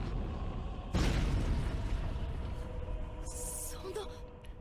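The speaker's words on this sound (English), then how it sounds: "So like that explosion, was that the titan too?" A sudden loud explosion from the Attack on Titan anime bursts in, then a long rumbling roar that fades slowly, heard over a steady background.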